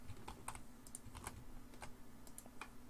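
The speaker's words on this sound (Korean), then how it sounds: "랩뷰에서 새 VI에서 컨트롤 S를 누르시겠고요." Keyboard keys on a computer tapped quietly in a short, irregular run of light clicks in a hushed room, used for a Ctrl+S save shortcut in LabVIEW.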